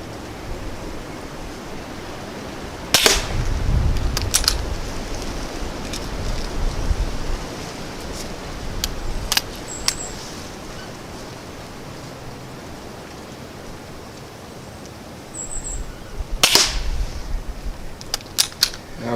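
An air pistol fires RWS pellets outdoors: two or three sharp, loud cracks stand out over a steady wind-like hiss, with faint clicks of handling between shots.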